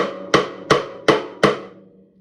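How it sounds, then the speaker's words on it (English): Four sharp woody drum rim clicks with the hand an inch from the head, evenly spaced, each with a short ringing tail, close and fairly loud. "The inch out from the drum head is kind of our Goldilocks moment"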